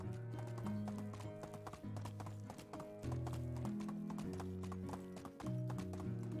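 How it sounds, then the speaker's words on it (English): Horse hooves clip-clop steadily in the medieval life-sim game Medieval Dynasty, a continuous rhythmic trot heard over a sustained tonal music bed. "Let's call the horse."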